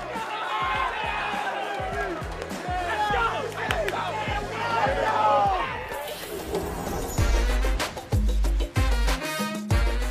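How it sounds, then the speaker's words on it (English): Carolina Panthers football players celebrating a win in a locker room, a loud crowd of shouting voices and chatter with bangs and crashes, then rhythmic pounding and thumping toward the end. "That was the sound of a bunch of Panthers celebrating"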